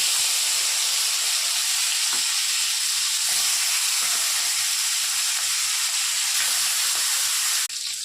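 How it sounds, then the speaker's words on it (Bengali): Fish heads rubbed with salt and turmeric fry in hot oil one by one, giving a steady, loud, dense sizzle that crackles evenly throughout with no voices, easing slightly right at the end. "এবার এক এক করে ভাজা স্টার্ট করছি"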